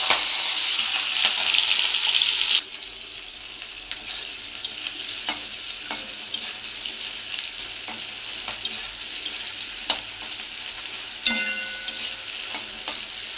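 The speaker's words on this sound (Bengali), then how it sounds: "চিংড়ি মাছ বেশি ভাজবো না, অল্প ভাজবো।" Shrimp sizzle as they fry in a wok, a loud burst of hiss at first that settles into steady softer frying, with sharp scrapes and knocks of stirring throughout and no voices.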